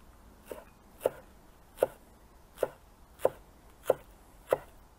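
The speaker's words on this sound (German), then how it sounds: "Jetzt nehmen wir uns den Schnittlauch und den schneiden wir uns auch einmal klein." A kitchen knife chops chives on a cutting board: seven crisp, evenly spaced strikes about once every two-thirds of a second, close and clear with nothing else heard.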